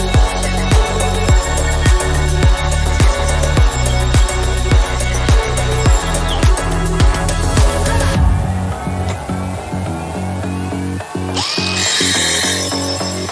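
An angle grinder chamfering steel sheet and tubes in a workshop, a steady loud whine with a regular pulsing beat as the disc works the metal, shifting in tone partway through and ending with a brighter hiss.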